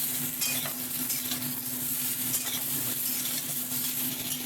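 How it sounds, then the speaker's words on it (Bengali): Potatoes, sweet potatoes and drumstick stems frying together in oil for Bengali shukto, a loud steady sizzle with scraping stirs and occasional clinks of the spatula against the pan. "এখানে আলু, রাঙালু আর ডাটা আমি একসঙ্গে ভাজছি।"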